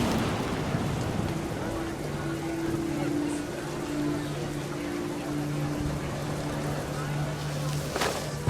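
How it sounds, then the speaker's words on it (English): Heavy rain falls steadily in the video game What Remains of Edith Finch, a loud constant wash with a low tonal drone underneath and a brief sharp crackle near the end. "The rain came down in buckets then"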